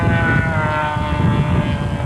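A silver Turner Special model airplane flying at an RC airshow, its engine a steady loud drone with a buzzing whine that holds close throughout, with no talking.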